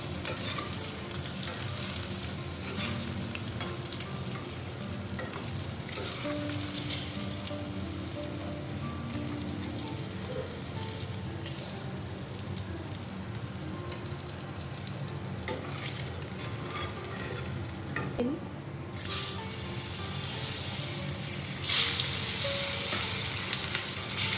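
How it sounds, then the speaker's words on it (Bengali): Fish sizzles steadily as it fries in a pan for a Bengali home-cooked meal, with a continuous crackling hiss and occasional stirring or scraping, heard up close with no talking. "আমি প্রথমে এখানে মাছটা ভেজে নিচ্ছি"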